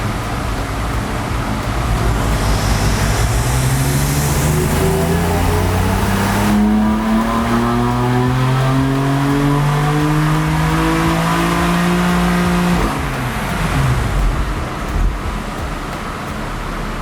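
A BMW F80 M3 fitted with a CSF charge air cooler making a dyno pull, the engine note rising steadily in pitch under a loud roar before cutting off and winding down, with no talking.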